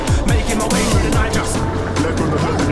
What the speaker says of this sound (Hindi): तो सबसे पहला जो टेस्ट हम लोग करने वाले हैं वो हम लोग करने वाले हैं इलेक्ट्रिक वर्सेस पेट्रोल का एक्सेलरेशन टेस्ट, या फिर आप उसको ड्रैग रेस भी कह सकते हो